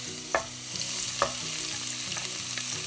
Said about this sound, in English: Let's start sauteing our garlic.